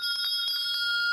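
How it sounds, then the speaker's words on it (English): A bell rings for a 6 o'clock wake-up, a loud, bright, rapid ringing sustained without pause through the moment, with no talking. "You slept through the bell."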